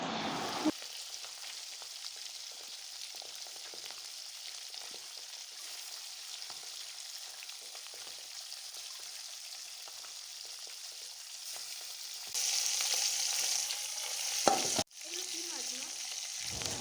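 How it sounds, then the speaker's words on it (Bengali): Pieces of fish rubbed with salt and turmeric frying in a pan, likely katla belly and khoira hilsa, giving a soft, steady sizzle that swells louder near the end as more pieces go in. "তো তারপর এক এক করে সব মাছ ভেজে নেয়"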